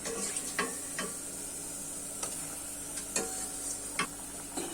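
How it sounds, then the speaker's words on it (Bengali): Fried mango pieces dropping into hot sugar syrup in a pan for mango murabba, giving a steady soft sizzle with several sharp ticks and clinks of a spoon at intervals; no talking. "এখন আমি ভেজে রাখা আমগুলো দিয়ে দিব।"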